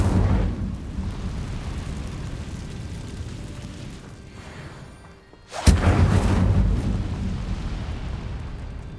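An Incendio fire spell in the video game Hogwarts Legacy: a low, rumbling roar of flames drops away, then a sudden loud burst erupts and keeps blazing as a heavy, continuous whoosh.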